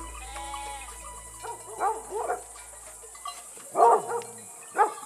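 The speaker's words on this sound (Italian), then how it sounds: "Ma i cani abbaiano, ci sarà qualcosa, eh?" Dogs barking at night in the countryside during a livestock transhumance, several short bursts at a moderate distance, spaced irregularly over a low background hum with no talk.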